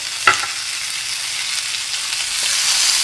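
Tomatoes sizzle and get stirred in a hot pan for ginisang upo with sardines, a steady close frying hiss with one sharp scrape early on and no voices.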